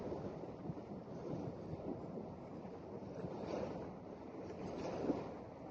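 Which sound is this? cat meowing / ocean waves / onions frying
ocean waves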